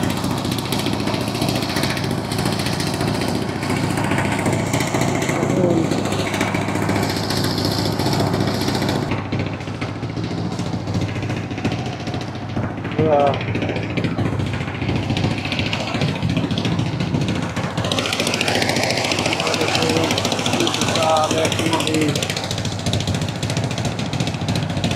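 A boat engine chugs steadily on the Padma river heading to a char, a continuous close mechanical drone with water and wind noise around it.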